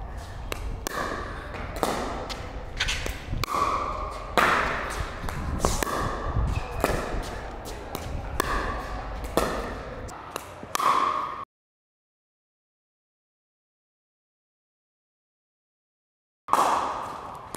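Pickleball paddles strike the ball in a rally with a hybrid drop/drive third shot, giving sharp, hollow pops in a quick irregular rhythm, with voices and court sounds between hits, then a silent gap before one more burst.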